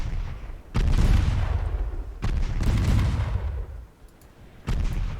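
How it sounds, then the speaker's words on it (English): Torpedoes launched from a torpedo boat in a stormy 1895 naval battle game: three heavy, deep booming bursts with sustained rumbling tails, spaced a couple of seconds apart. "There goes one torpedo."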